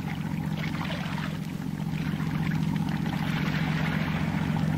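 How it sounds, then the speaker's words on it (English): A diesel tug engine approaches over water, heard as a steady low droning rumble with a faint wash of water, continuous and moderately distant, with no talk. "I can hear it plainly enough. A diesel headed for us."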